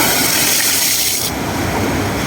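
Monsoon sea waves surge against a shoreline, a loud continuous roaring wash of water that fills the clip with no voices.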